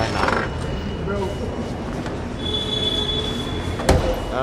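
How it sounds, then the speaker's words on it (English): A New York City subway train rolling in Queens, its wheels squealing in a high sustained whine over low rumble, with a sharp metallic clank near the end and a voice speaking briefly at the start. "Let's take the subway."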